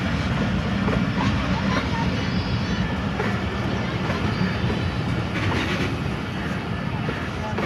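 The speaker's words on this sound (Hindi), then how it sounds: "रेल का चलना आना, सीटी बजाना और फिर इस तरह स्टॉप करना" A train running through Attock railway station in Pakistan, with a dense, steady rumble of wheels and carriages close by that carries on throughout, with no clear voices over it.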